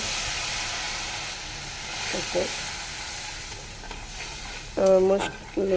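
Fried onion and spices with turmeric, chili and coriander powder sizzle and hiss steadily in a pan after water is added, a close continuous fizz with brief scraping stirs.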